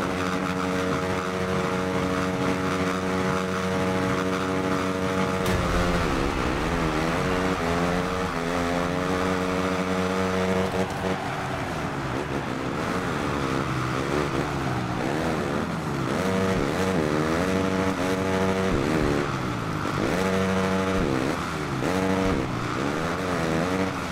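Several 450SX supercross motorcycle engines warm up at the Houston round before the gate drop. They make a loud, steady, overlapping roar of revving and idling with rising and falling pitch sweeps, continuous and without speech.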